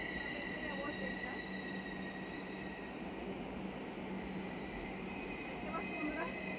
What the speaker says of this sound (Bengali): এই যে আসছে বাজারের যাওয়া ট্রেন এসে গেছে